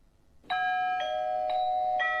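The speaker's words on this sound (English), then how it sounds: "When an electric bell rings at your place" An electric bell rings with bright, steady tones, sounding in four evenly spaced strokes about half a second apart after a short silence. It is clear, close and alone.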